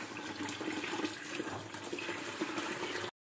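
A water tap opened in a filter setup early in the morning, a steady, loud rush of running water that fills the clip and then cuts off abruptly at the end, with no talk.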